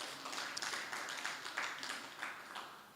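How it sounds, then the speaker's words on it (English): Graduation audience applauding at a women entrepreneurs' academy ceremony in Mbarara, a steady dense wash of many hands clapping at moderate distance, fairly quiet and sustained throughout. "give yourself another hand of applause"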